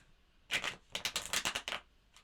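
Tarot cards being shuffled by hand: a quick burst of crisp riffling followed by a run of rapid papery flicks and snaps, close and fairly quiet, with no talking.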